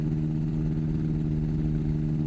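An ultralight aircraft engine warming up on the ground with the throttle raised to about 3,000 rpm, a steady, loud, droning hum held at a constant pitch throughout, with no voices.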